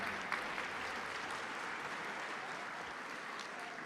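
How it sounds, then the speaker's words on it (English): Steady applause from an audience at a live charity-style auction, a dense wash of clapping that holds at an even, fairly loud level for the whole stretch with no voices on top. "Round of applause, everybody."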